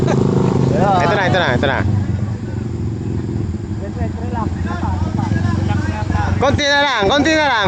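A tricycle motorcycle engine revs and strains nearby, rising and falling in pitch, with excited voices talking loudly over the engine throughout.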